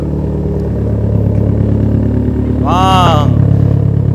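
A Toyota Corolla engine runs steadily at idle while warming up, then briefly revs with a rising whine before settling back into a low rumble.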